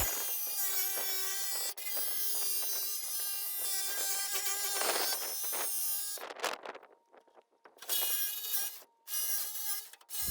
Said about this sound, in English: I'm going to cut this with the jigsaw